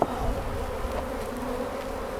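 Honey bees from a wild-caught hive hum steadily over an open brood frame, a dense close buzzing drone that holds evenly throughout with a soft tap at the start.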